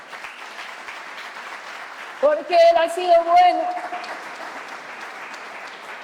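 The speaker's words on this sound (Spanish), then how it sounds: "quisiera que le diéramos un aplauso al Señor en esta mañana" Church congregation applause swells briefly behind a woman preacher's voice, a short burst of clapping that rises and subsides while she keeps speaking.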